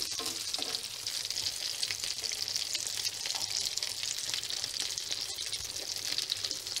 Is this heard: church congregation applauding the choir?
no